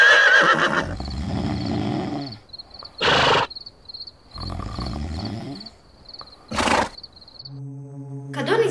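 A horse neighs twice, loud and close, at a fourth-grade school performance of Regoč in Zagreb. The two sharp whinnies stand apart from stretches of murmuring voices and a steady tone near the end.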